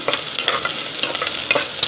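Chopped onion, about three-quarters of one, sizzling in a pan for a Karnataka-style chicken curry, with steady frying crackle and repeated scrapes of stirring close by, no talk.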